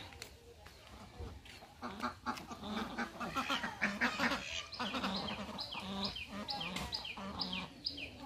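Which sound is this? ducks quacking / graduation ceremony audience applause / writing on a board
ducks quacking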